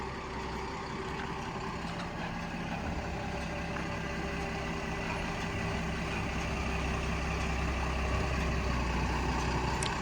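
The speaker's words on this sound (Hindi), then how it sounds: "ये आ रही है गाड़ी भाई" A truck arrives on a rural road near farm fields to load bananas, its heavy engine droning low and steady, growing slightly louder over ten seconds.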